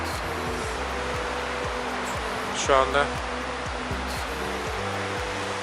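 Waves on Lake Iznik give a steady, broad wash of water noise on a windy shore, constant and fairly loud, while a person speaks briefly over it.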